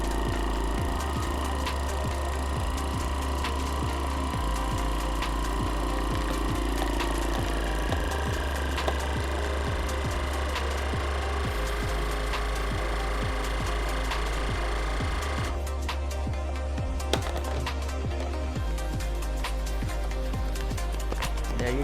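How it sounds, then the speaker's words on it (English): A Mueller MV-1100 vacuum sealer runs its vacuum sealing cycle, a steady loud motor drone with pump pulsing and clicking, holding unbroken for about twenty seconds before its tone shifts near the end. "start the vacuum sealing cycle."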